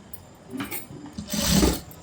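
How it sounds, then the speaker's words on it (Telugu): A sewing machine stitches a cutwork blouse in a brief, close whirring run that rises after a few quieter rustles of fabric. "ఇలా తిప్పి కుట్టచ్చు"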